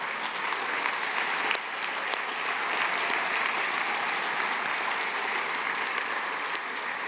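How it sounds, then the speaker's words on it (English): Sustained applause from a large audience at a western art exhibition awards ceremony, steady dense clapping for about seven seconds with no break. "So a round of applause for all of our artists."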